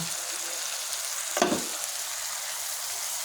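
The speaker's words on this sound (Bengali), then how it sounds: "এই যে আমি দিলাম মরিচ বাটা" Chili paste sizzles steadily in a hot pan, a broad constant frying hiss with one brief louder burst of spatter and scraping near the middle, then settling back to an even sizzle.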